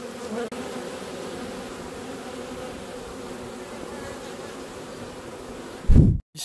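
A dense, steady buzz of many honeybees droning close by as a beekeeper shakes bees after killing the queen, continuous and even, ending with a brief loud thump.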